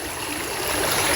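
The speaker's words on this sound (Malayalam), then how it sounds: "ഇത് കടക്കാൻ പറ്റുന്നൊരു പുഴ" A shallow, crossable river flows steadily with a close, continuous rushing and hissing of water, growing slightly louder toward the end.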